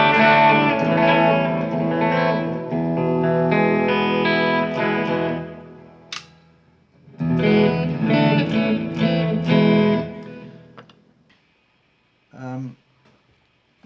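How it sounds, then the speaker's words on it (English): Electric guitar with reverb and echo, playing sustained chords in two phrases separated by a short gap, then trailing off into a few faint notes. "Let's try it with a little bit of the reverb and delay on it."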